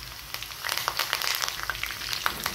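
Curry leaves hit hot oil with cumin, chopped chilli and garlic while tempering for kadhi, bursting into a close, busy sizzle with dense crackling that swells after the first half second and keeps spitting.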